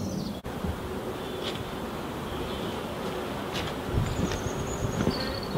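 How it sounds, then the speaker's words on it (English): Honey bees fly around a swarm bait box near a UK apiary, a faint steady buzzing with occasional closer passes rising and fading over an outdoor hush, no voices. "There are bees around it now, flying and walking on it"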